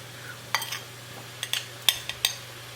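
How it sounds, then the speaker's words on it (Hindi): Tamarind chutney stirred together with masala powder, heard as a few quick, close clinks and scrapes of a spoon against the pot over a quiet hum. "अब हम इसको अच्छे से मिक्स करेंगे।"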